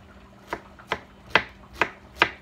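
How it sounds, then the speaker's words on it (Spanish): A knife chops through a large pineapple on a cutting board, five evenly spaced crisp thuds about half a second apart, close and clear with no talking. "yo voy a picar mi piña y la voy a poner en la licuadora"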